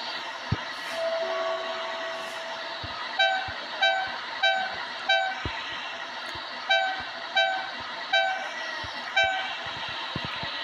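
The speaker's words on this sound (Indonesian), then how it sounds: "Gak boleh terlalu cepat ini keretanya jalannya." A toy train runs on its track, giving off a steady low rumble with regular rhythmic clacks and repeated short horn toots at a close, moderate volume, no talking.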